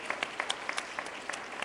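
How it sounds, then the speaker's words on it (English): An audience applauds Rayut at an event, a quick burst of many hands clapping with a few sharper individual claps standing out, brief and fairly loud. "Big round of applause for Rayut."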